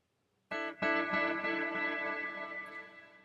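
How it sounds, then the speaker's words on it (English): An ambient, underwater-like delay and reverb preset: a sustained synth-like tone enters abruptly and repeats in quick echoes, washing into a long, dark reverb tail that slowly fades out. "Preset number B is this kind of ambient, underwater almost sound."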